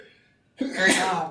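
A single sharp sneeze bursts out after a brief quiet moment in a committee meeting room, close and loud, with a short breathy lead-in.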